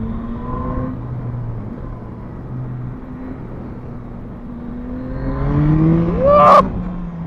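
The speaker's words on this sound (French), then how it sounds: "Les accélérations, ça reste quand même le top sur cette moto." A 2024 Yamaha MT-09 motorcycle engine revs up loudly with a rising pitch, building to a sharp peak near the end before settling back to a steady drone.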